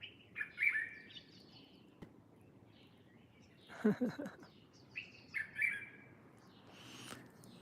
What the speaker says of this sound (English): Yeah, the birds are laying their eggs now. There it goes. The birds are beautiful.